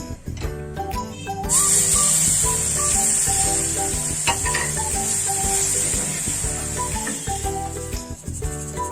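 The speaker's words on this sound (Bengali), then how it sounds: "এখন আমি এর মধ্যে দুধ দেব।" Milk poured into roasted semolina in a hot pan hisses into a loud, steady sizzle while being stirred, with music playing underneath throughout.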